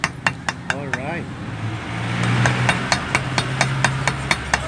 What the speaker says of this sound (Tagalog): Inuukit. Ukit po pala yung mga pangalan.